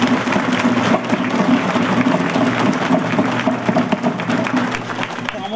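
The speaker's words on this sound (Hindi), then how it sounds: "मैं चाहता हूं जोरदार तालियां बजाकर आप विपक्ष" Sustained loud applause from a large crowd at a youth parliament, dense steady clapping throughout with some voices mixed in.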